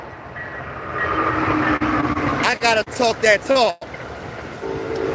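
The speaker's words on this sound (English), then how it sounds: "That's the train going by me." A train rumbles past close by under steady loud noise, with a horn-like tonal blast in the middle, while someone talks over it.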